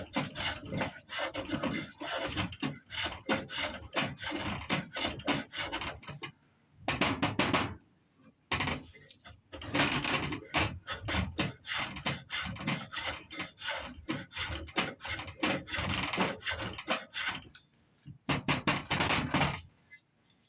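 A blade scrapes wood to raise curls, making long runs of loud, close rasping strokes in a steady rhythm, broken by a few short pauses.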